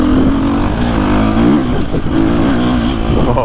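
A 2025 KTM 350SXF dirt bike revving hard with aggressive throttle, a loud, close, continuous engine roar that rises and falls in pitch with repeated blips, with no voices over it.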